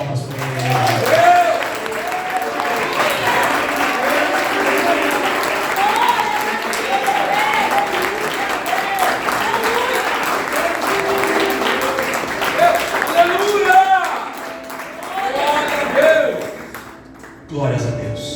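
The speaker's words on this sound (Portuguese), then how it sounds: "Então dá uma salva de palmas para Ele." A church congregation at a family worship service applauds loudly and continuously for about seventeen seconds, with voices and shouts mixed in, before it abruptly stops.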